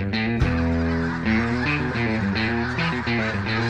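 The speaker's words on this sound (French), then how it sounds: "c'est de l'oie blanche" A large flock of snow geese honks continuously during a spring goose hunt near Trois-Rivières, Quebec. The calls are loud, dense and overlapping, with no voices.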